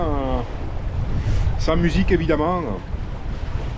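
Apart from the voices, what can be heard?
wind and water rubbing on sailboat hull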